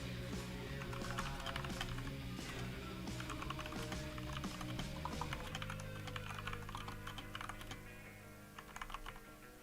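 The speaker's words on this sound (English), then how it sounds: "let me type this out and not tell you guys what I'm typing." Rapid clattering keystrokes on a computer keyboard run steadily throughout, close and fairly loud over a sustained background hum, easing slightly toward the end.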